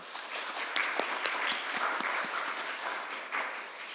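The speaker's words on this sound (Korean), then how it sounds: "박수로 맞아 주시기 바랍니다" Steady applause from a church congregation at a Sunday service fills the space, dense clapping sustained evenly throughout with no voices on top.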